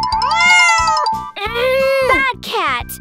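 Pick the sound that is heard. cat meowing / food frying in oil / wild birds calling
cat meowing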